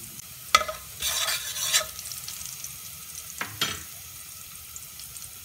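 Garlic stir-fried in a hot pan, quiet background sizzle broken by a few short scraping bursts of a spatula stirring, with no talking.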